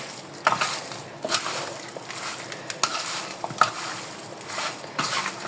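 A spoon mixes tikka boti masala into chicken in a pan, producing soft scraping stirs and clinks over a low sizzle, with several sharper knocks spaced across the moment.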